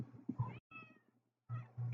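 A cat meows several times in short, close, moderately loud bursts separated by brief pauses, with no talking.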